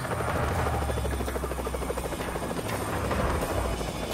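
A cartoon helicopter flies in a wintry Beyblade scene, its steady, loud rotor thrum and engine drone filling the whole stretch without a break.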